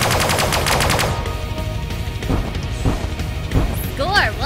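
Laser fire in the sci-fi space combat game Sunrider First Arrival starts as a rapid, pulsing string of blasts, then gives way to impacts and swooping electronic tones near the end, with game sound layered throughout.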